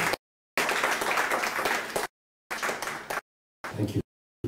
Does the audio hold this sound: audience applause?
yes